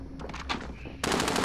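Automatic gunfire in the Call of Duty: Modern Warfare video game: a few scattered shots, then a loud, sustained rapid burst of machine-gun fire that continues to the end.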